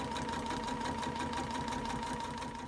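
A sewing machine runs steadily while stitching a double binding onto a quilt, giving a continuous, even mechanical whir that stays at the same level throughout with no voices.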